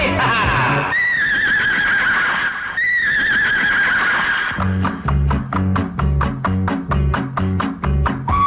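A horse in a Tamil film song from Karpagam Vanthachu gives loud, wavering whinnies, a long one and then another, before rhythmic music with steady beats takes over.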